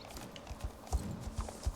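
Horse hooves clip-clop in a video game, a fairly quiet, uneven run of hollow thuds at moderate pace over a soft background wash.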